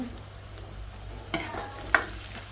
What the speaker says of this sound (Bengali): তো এটা পেঁয়াজের সাথে ভালো করে হলো ভাইজা নিমো